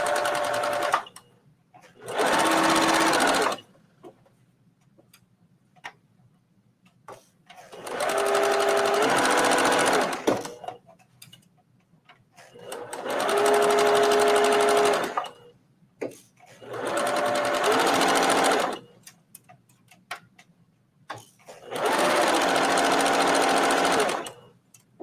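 A serger sewing machine stitches slippery fabric while a skirt is being made, running in five or six loud whirring bursts of a few seconds each, with pauses of handling noise and some talk between runs.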